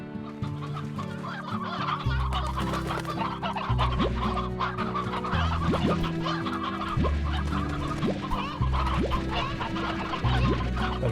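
Chickens in the video game Slime Rancher, nine hens and two roosters, cluck repeatedly in short rising calls over a looping game music backdrop, fairly close and steady throughout.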